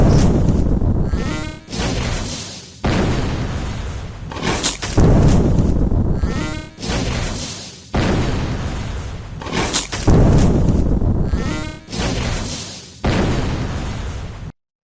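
Magic and ranged attack sounds from the boss Jad in RuneScape's Fight Caves: six loud separate bursts, three magic attacks followed by three ranged attacks, each a short roaring blast that trails off, with brief gaps between them.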